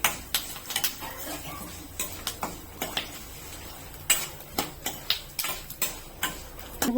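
Mustard and cumin seeds spluttering in hot cooking oil: sharp, irregular crackles and pops burst out one after another over a faint background hiss, close and fairly quiet.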